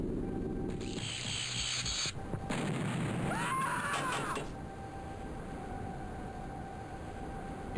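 A grenade bursts in the underwater strategy game X-COM: Terror From the Deep, a dull boom with a crackle and mechanical clatter, followed by a trailing rumble and a sustained electronic tone.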